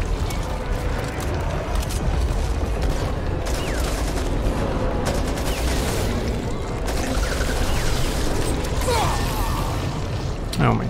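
Dense, continuous gunfire and mechanical clatter fill a frantic firefight in the zombie shooter Back 4 Blood, with rapid overlapping shots throughout and voices calling out over the noise.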